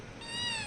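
A kitten gives one short, close, clear meow lasting under a second, with no other sound around it.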